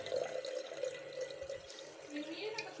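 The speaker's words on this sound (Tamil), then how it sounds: "இப்போ நம்ம இதுக்கு எக்ஸ்ட்ரா வாட்டர் ஊற்றிடலாம்" Extra water poured into a small fish tank holding blue zebra fish, a soft continuous trickle and splash, close and fairly quiet, with no talk over it.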